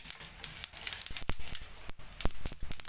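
Mustard seeds and white sesame seeds sizzling in lightly heated oil, a soft, close, continuous fizz scattered with sharp crackles and pops.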